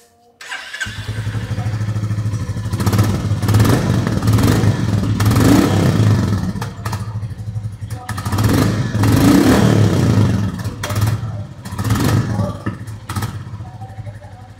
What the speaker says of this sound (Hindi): इस गाड़ी का जो डुक डुक डुक डुक साउंड है उसे चेकआउट कराने की।